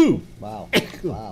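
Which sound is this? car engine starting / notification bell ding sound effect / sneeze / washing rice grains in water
sneeze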